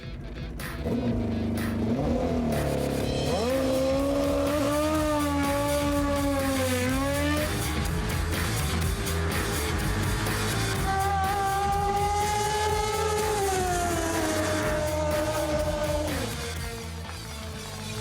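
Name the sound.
drag racing motorbike accelerating down the strip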